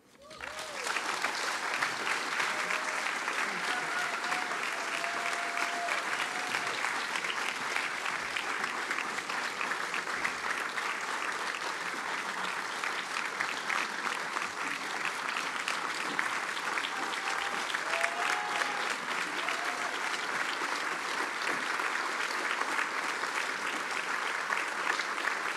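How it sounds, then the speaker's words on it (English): Sustained applause from a large audience at a human rights award ceremony, steady and even throughout, with no break in the clapping. "Well-deserved applause"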